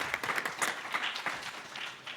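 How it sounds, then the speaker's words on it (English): Audience clapping at a panel discussion, picked up loudly through a microphone, a short burst of many hands with uneven sharp claps over a couple of seconds. "Clapping is very loud over a microphone."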